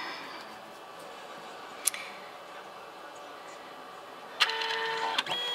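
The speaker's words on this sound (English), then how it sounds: "Now it's printing." A Canon Selphy CP910 compact photo printer runs with a quiet, steady mechanical hum. A sharp click comes partway through, then a louder mechanism whirrs and ticks near the end.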